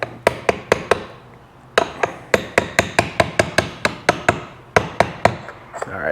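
Sharp hammer taps strike parts on a Bennche Spire 800 engine during a teardown, landing in quick clustered bursts of loud, ringing metallic hits with brief pauses between groups.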